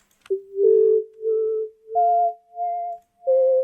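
A synth plays a short sequence of pure, whistle-like tones, each swelling in and fading out smoothly in a pulsing rhythm shaped by a sine-wave volume envelope, stepping between pitches.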